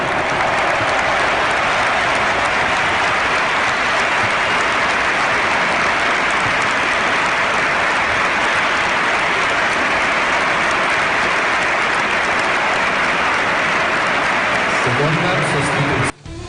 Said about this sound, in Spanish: al salir del campo le recibiese con esta ovación el feudo madridista